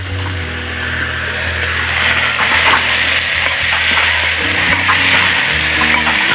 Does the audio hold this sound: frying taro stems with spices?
yes